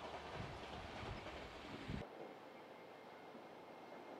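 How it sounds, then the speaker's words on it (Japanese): A local train on the Nippō Main Line runs along the Saiki Bay coast at Bungo Futamigaura, a steady faint rolling rumble that drops abruptly to a quieter hum halfway through. "列車は佐伯湾にある豊後二見ヶ浦に沿って走ります。"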